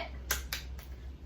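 A few sharp claps from schoolchildren performing the 'tepuk hebat' clap chant in an elementary classroom, three or four quick bursts spaced in a short rhythmic pattern, fairly faint.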